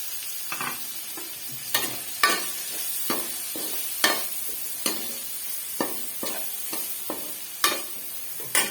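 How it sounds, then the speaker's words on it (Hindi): Onions fry in a pan with a steady hiss while a spoon stirs and scrapes in repeated sharp clinks, loud and close, with no talking. "प्याज डालूंगी यहाँ पे"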